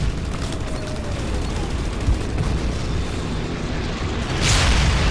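Explosions in the video game Enemy Front at Saint-Nazaire: a continuous heavy rumble of blasts and debris, with a sharper burst near the end and faint talk underneath.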